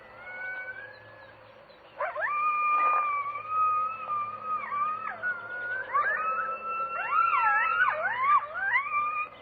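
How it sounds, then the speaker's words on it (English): A coyote howls at night in the Kofa Mountains of western Arizona, a brief yip followed by long, wavering, sliding wails that overlap into yipping calls, moderately distant against a quiet background hum. "it seems to be an even more appropriate night to be listening for the song of the coyote"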